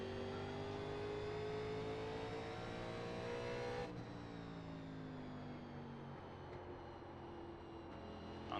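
A NASCAR Legends race car at Richmond in the iRacing sim revs hard, its engine note climbing in pitch, then dropping sharply as the throttle lifts before building again, loud and close with no voices.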